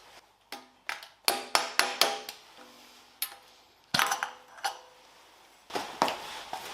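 Metallic taps, clinks and ringing knocks come in uneven bursts as the hub cap is pried off and the hub nut is loosened on a Mazda RX-7 FD3S, close and sharp with quiet gaps between.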